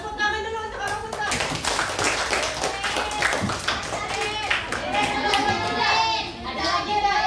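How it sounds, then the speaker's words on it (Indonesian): Schoolchildren in an Indonesian classroom clap for a classmate during a practice teaching lesson, lively brisk clapping mixed with children's chatter and voices throughout. "tepuk tangan dulu untuk Abang Sultan"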